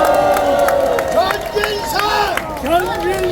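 Residents at an outdoor rally backing a Seoul–Yangpyeong expressway route raise a loud, close crowd roar of cheers and shouting voices, with scattered clapping mixed into the din.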